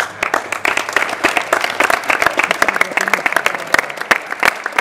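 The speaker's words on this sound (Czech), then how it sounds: "Takže za to vám já tleskám." A crowd at a futsal tournament in Hostinné applauds the players with loud, sustained, fairly close clapping.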